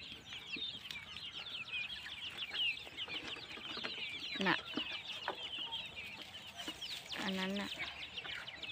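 A flock of Hmong chickens clucks and chatters while eating discarded vegetable leaves at a hill farm, with a louder squawk partway through and a person speaking briefly over the birds.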